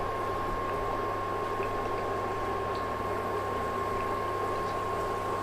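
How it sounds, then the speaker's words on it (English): Steady bubbling and sizzling of spiral curry puff pastries with vegetable filling deep frying in hot oil over medium heat, constant and close, with a faint tonal hum underneath and no talking. "So I have already done the pastries, so put it into the hot oil."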